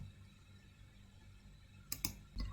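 A mouse button clicks twice in quick succession, then once more, near and crisp against a quiet room hum, as code is run in RStudio.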